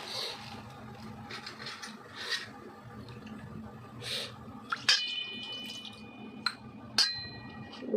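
Water trickles and drips while a brass Gopal idol is bathed during a morning puja, with small splashes and a few bright metallic clinks and ringing taps in the second half, close and fairly quiet.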